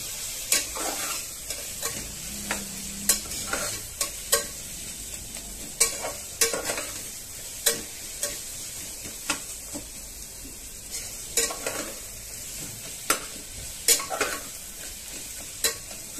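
Carrots and peas stirred and fried in a pan for palak pulao, a soft steady sizzle under repeated sharp clinks and scrapes of a spoon against the pan, close and uneven in rhythm.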